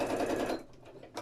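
A sewing machine stitches fabric for a bird wall hanging, its needle whirring loudly and steadily for about half a second before slowing and stopping.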